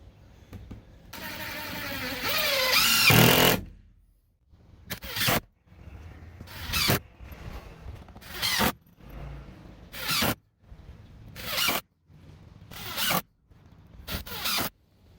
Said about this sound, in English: let's continue screwing this thing down